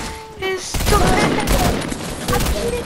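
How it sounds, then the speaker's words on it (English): Rapid bursts of game gunfire in a Fortnite match, loud and dense, broken up by short gaps, with excited voices shouting over the shots. "I'm shooting at him!"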